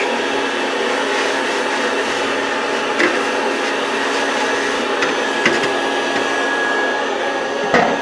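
Vacuum hose cleaning out the chimney of a heater during basic summer maintenance, giving a steady, loud, close whooshing roar that runs throughout with occasional faint knocks from the hose.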